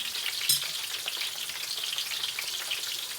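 Onions and curry leaves fry in a pan for chivda, a close, steady crackling sizzle with a single sharp pop near the start and light stirring under it.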